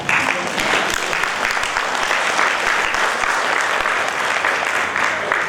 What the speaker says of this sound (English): Yeah, we should have actually clapped.